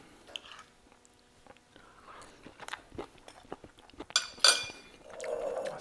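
Close, soft chewing of a bite of involtini alla Romana, Roman-style rolled meat with vegetables still slightly crunchy inside, with wet mouth clicks and a few sharper clinks, quiet and without talk.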